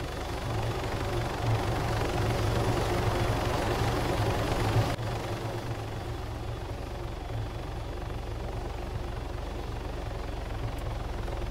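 A helicopter in the Arma 3 video game runs as a loud, steady rotor and engine drone throughout, a constant heavy rumble with a slight change in tone midway and no talk over it.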